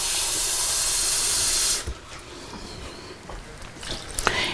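Water is poured into simmering taco casserole meat in a hot pan, setting off a loud, close steam hiss that cuts off sharply into a quieter, soft crackling simmer.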